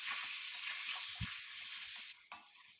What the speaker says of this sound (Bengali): এখন এই তেলেতেই মাংসটা দিয়ে দিচ্ছি। মাংসটাও আমি হালকা করে ভেজে নেব।